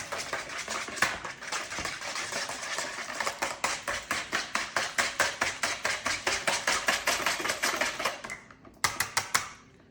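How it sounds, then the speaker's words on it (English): A whisk beating egg, vanilla extract and milk in a bowl for scones: a fast, even run of sharp clicking taps against the bowl, close and steady, easing into a few final strokes, no talking. "we will have 1 egg, 2 teaspoons of vanilla extract, and 3/4 a cup of milk. You're gonna whisk that together."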